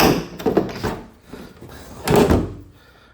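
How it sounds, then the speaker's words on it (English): A plastic cover is pulled off an EMS.9 Plus massage chair after its screws are removed, giving a few close, hollow thunks and scrapes, then a louder clattering bump near the end. "Now that the 4 screws are off, just pull the cover,"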